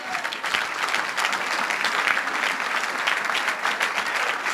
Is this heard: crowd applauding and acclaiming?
yes